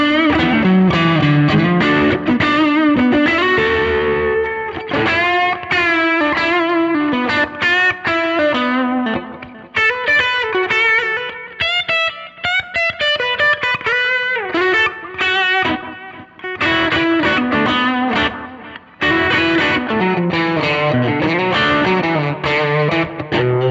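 An electric guitar played through the distortion side of an Analogman King of Tone overdrive pedal gives loud, high-gain chords and riffs that ring continuously, with a slightly noisy edge and brief gaps between phrases.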